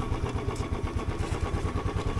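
A Royal Enfield Himalayan motorcycle ridden slowly on snow on the Spiti to Manali road makes a close, loud single-cylinder thump, pulsing in an even, rapid rhythm.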